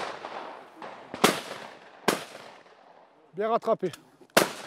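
Shotgun shots fired at clay targets at a shooting club: three sharp, loud blasts spaced over a few seconds, each trailing off with a short echo, with someone speaking briefly between them.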